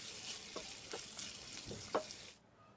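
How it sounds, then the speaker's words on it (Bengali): Chopped onions fry in hot soybean oil with whole garam masala, giving a steady, soft sizzle with a few scraping stirs before the sound cuts off near the end. "পেঁয়াজ কুচি নেড়ে চেড়ে খুব ভালোভাবে ভেজে নিচ্ছি"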